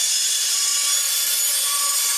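A bandsaw slicing through wood for a CLC boat build, giving a steady, continuous high-pitched hiss of blade on timber that runs unbroken at close range with no talk.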